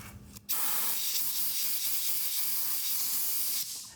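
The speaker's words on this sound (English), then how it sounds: "let's grab some compressed air and just blow the dirt out" Compressed air blasting dirt off the transmission of a 2011-2015 Chevy Volt, a loud continuous hiss that bursts on suddenly, holds steady for about three seconds, then cuts back.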